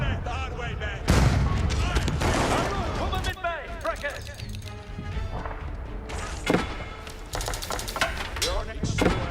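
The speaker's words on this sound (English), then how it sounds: "Those fucking bombards are shredding me!" Bombards fire in a historical battle in Age of Empires 4, heavy booming volleys and crashing impacts layered with battle clatter, loud and dense, with a voice talking over the gunfire.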